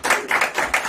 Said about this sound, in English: We'll do a little clap.